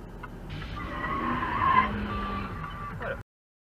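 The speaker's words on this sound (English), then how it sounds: "Turn signal clicking, tire screeching, and then followed by the WTF." Car tires screech in one sustained squeal lasting about three seconds, loud and fairly close, then cut off abruptly.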